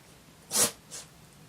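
A dog sneezes indoors: one sharp burst followed by a smaller second snort, close and brief against quiet room tone.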